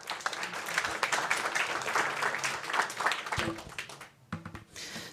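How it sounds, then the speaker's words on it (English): A tech showcase audience applauds a presenter as he comes up. Dense, close clapping builds and holds, then thins out and breaks off abruptly, with a brief scatter of claps at the very end. "Give him a warm round of applause,"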